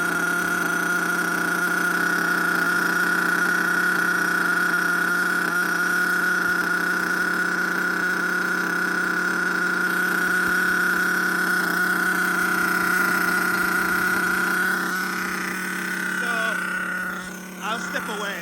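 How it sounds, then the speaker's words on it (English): An HPI Savage GTXL-6 monster truck's F5.9 nitro engine idles high during break-in, a steady, buzzing drone held at a constant pitch, close and loud, that wavers and dips near the end. "So as you could hear the car from here, it sounds like it's running high on idle, right?"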